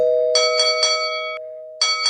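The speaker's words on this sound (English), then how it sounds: "That was an intense doorbell, Josh." A loud electronic doorbell chimes nearby, a quick series of three ringing tones, a short pause, then the chime starting again, with no talking.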